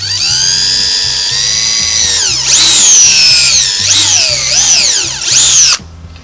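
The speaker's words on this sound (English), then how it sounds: "I'm going to pre-drill the holes about 1/2 inch from the edge." A power drill whines loudly while pre-drilling holes in wood about half an inch from the edge, its pitch rising and dipping as the bit bites and speeds up, in several close bursts before stopping abruptly.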